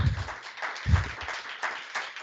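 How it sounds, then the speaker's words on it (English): Audience applause at a Martin Luther King Jr. Day celebration, a steady, fairly soft wash of clapping that swells in two or three gentle waves with no one speaking. "So can we give a round of applause for Ms. Robinson Collins?"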